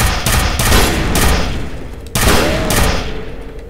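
Loud bursts of gunfire in the F.E.A.R video game, two rapid volleys of close, sharp shots separated by a brief gap, with no talk.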